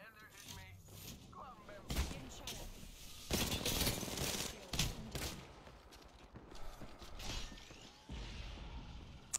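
Video game gunfire in bursts of rapid shots and loud fusillades, mixed with game effects, while players talk over it.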